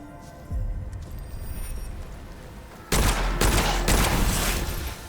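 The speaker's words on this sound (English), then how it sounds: "I heard something shoot at me" Enemy gunfire in the dark-fantasy shooter Witchfire: a burst of booming shots at mid-clip, then a loud, dense volley of rapid gunfire crackling through the last two seconds.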